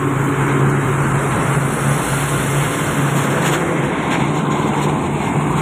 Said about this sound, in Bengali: গাড়িগুলো সব এয়ারপোর্টের দিকে চলে যাচ্ছে